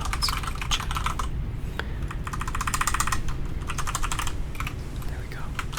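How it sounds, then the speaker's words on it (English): A computer keyboard is typed on close to the microphone in a quiet ASMR setting, giving a rapid, steady run of crisp clicky keystrokes with no pause. "a full video of me just typing or doing keyboard sounds in general"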